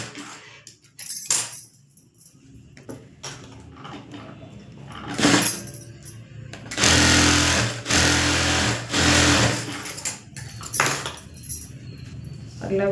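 Sewing machine stitching a chimney-cut tailoring piece, running in bursts of rapid whirring between pauses and handling clicks; the longest, loudest run comes midway, with a few shorter runs around it.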